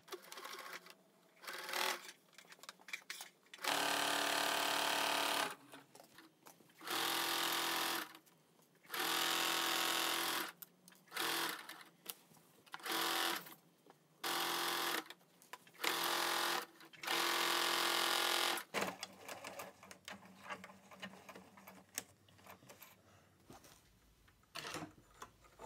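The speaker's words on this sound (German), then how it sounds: "dann näht ihr das auch einmal ringsum fest" A domestic sewing machine stitches round the lining of a small tote bag in loud, fast bursts of whirring. Short pauses and handling noises break up the runs, and no one speaks.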